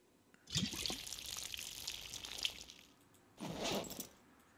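Liquid poured out of a cooking pot in the zombie survival game Project Zomboid, a close splashing pour lasting a few seconds, then a brief pause and a second shorter pour.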